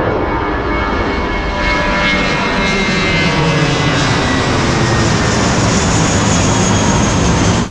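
A loud, steady roar of an airplane passing close overhead in Thailand, the engine noise swelling and holding throughout.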